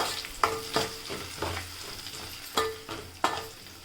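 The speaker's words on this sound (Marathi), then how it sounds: "लसणाच्या सुद्धा आपण कांद्यासोबतच मस्तपैकी परतवून घेऊयात" Onion and crushed garlic cloves sautéing in a pan, a steady low sizzle broken by several sharp scraping clicks of a spatula stirring, close by with no talk.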